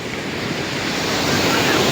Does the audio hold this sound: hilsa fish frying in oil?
no